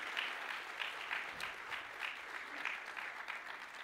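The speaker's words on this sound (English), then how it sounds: "Let's give them one more round of applause" Steady audience applause for the Rancho Verde Chamber Singers at a school district address, a dense wash of many hands clapping at moderate distance, even and sustained throughout with no talk over it.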